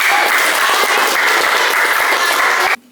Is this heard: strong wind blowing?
no